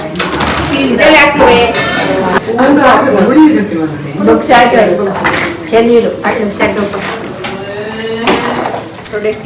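Plates and dishes clink and clatter while being handled at a wedding-house gathering, with irregular close knocks and rattles mixed under steady nearby talk.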